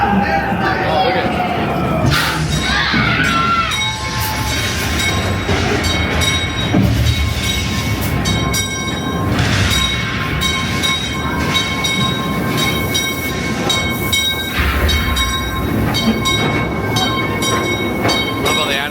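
An amusement ride train at Knott's Berry Farm rumbles steadily along its track with metallic squeals and rattling, loud and continuous throughout, with voices heard faintly in the mix.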